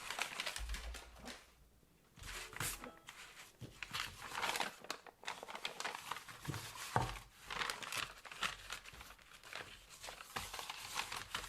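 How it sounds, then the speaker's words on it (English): Scissors cut a strip from Amazon cardboard packaging, with faint, crisp snips and crinkling scrapes repeating irregularly over a quiet room. "I'm just going to cut that strip"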